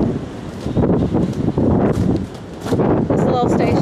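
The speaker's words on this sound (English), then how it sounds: "it is so windy right now." Strong gusting wind buffets the open forward deck of the Carnival Splendor cruise ship, rumbling loudly in surges while a person talks through it.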